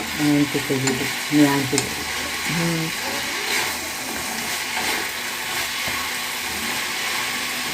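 Food being stirred and frying in a pan, a steady close sizzle with scraping and stirring, and brief speech from a woman at the start.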